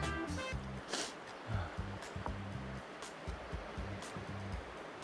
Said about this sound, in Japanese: 天竜川の流れ